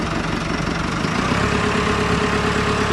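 A JCB 3CX backhoe loader's diesel engine runs loud and steady in first gear, with a constant low rumble and a faint rise in revs partway through.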